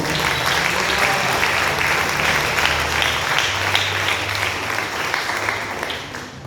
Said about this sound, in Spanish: Den ese aplauso al Señor Jesucristo